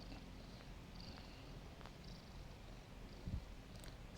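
A four-year-old male former street cat purrs softly and steadily up close, a faint continuous low rumble with no voices over it.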